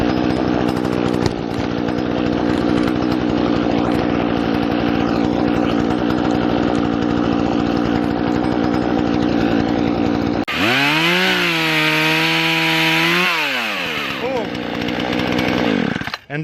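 A chainsaw roars loudly and steadily, then its pitch shifts and wavers as it bites into a firewood log before settling back to a high idle whine.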